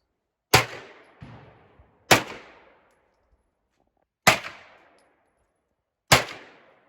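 Four sharp gunshots from a Freedom FX AR9 rifle, spaced irregularly with short decaying echoes after each, one followed by a fainter second report; loud, close and with no talk.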